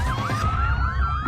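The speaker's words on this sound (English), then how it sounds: "A siren sounds." A wailing siren sweeps up and down continuously, loud and close, over a low rumbling background.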